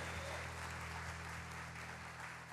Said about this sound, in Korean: 힘을 주시는 주님께 감사와 영광의 박수 올려드립니다